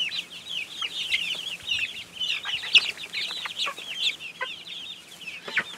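Chickens in a chicken tractor on grass, clucking and making busy, overlapping chatter close by, continuous and moderately loud with no talking.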